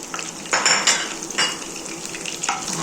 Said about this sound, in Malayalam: കടുക് ഇട്ടു ഇട്ട് ഉള്ളിയും മുളകും ഇട്ടു